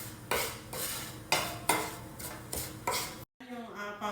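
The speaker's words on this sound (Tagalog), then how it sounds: "Ayan, halo-haloin lang natin hanggang mag-little brown din siya." Powdered milk stirred in a cooking pan with a utensil, giving repeated scraping strokes in a steady rhythm, close and fairly clear, with a brief gap near the end.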